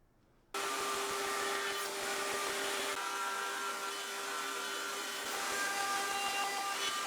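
Shaper Origin handheld CNC router cutting wood joinery for a table base, a loud steady high-pitched motor whine with spindle hum starting abruptly after a brief quiet moment and running continuously, with no talking.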